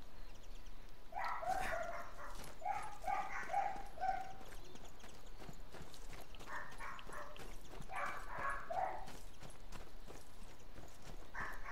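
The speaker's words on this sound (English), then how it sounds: "Is that Schmeagle barking in the background?" Small yips and barks from a dog come through in short clusters in the background during a Sniper Elite 4 match, faint against continuous game noise and hiss.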